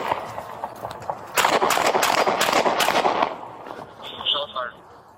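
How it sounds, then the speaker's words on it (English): A police officer fires several rounds at a running suspect near a drainage ditch, a rapid burst of loud, close shots followed by a shout. "The officer drew his gun and fired several rounds at the suspect"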